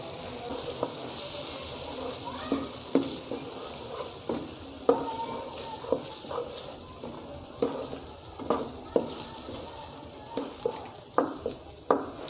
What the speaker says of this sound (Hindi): जो छोले मैंने निकाले हुए थे वो मैं डालूँगा इसके अंदर।